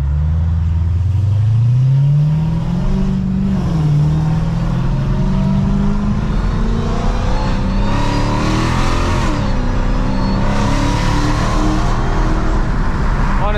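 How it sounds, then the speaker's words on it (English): Dodge Hellcat V8 engine rising in a deep, loud throaty roar as the throttle is tapped, pitch climbing and surging repeatedly with strong low rumble throughout. "I'm literally tapping the throttle and the way it throws itself forward, it's got so much low down torque"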